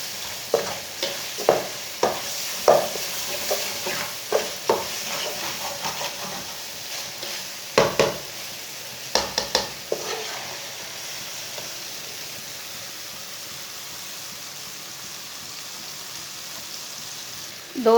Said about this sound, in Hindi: दाल और पालक को मैंने 5 मिनट तक भून लिया।